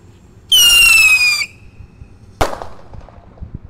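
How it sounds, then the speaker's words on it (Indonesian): A firework rocket launches with a loud rising whistle-screech lasting about a second, followed shortly by a sharp bang and fading crackle. "Lanjut yang kita nyalakan di sini ada roket pirotor. Siap meluncur."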